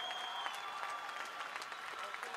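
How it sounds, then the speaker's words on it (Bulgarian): Applause and crowd clapping for two fighters after a bout at a PROFIGHT fight event, steady and fairly distant throughout, with faint voices mixed in. "Аплодисменти и за двамата."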